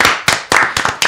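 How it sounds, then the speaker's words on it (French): A few people clap briefly in a casual room discussion, with four or five sharp, close, uneven bursts of hand claps and no voices. "On applaudit quand même si c'était une évidence."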